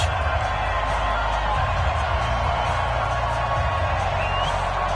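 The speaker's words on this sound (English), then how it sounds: "This crowd is ready as their guys get set to match up between the Oakland Raiders and the Carolina Panthers." A loud, steady roar of a stadium crowd in an NFL football video game before an Oakland Raiders versus Carolina Panthers matchup, with faint cheers over the constant crowd noise.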